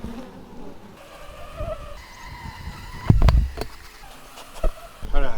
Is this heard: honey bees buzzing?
yes